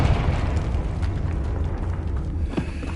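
A Confringo fire spell blasts in the Hogwarts Legacy video game inside a tomb, a loud, rumbling explosion with crackling debris that fades into a low roar, with a sharp pop near the end.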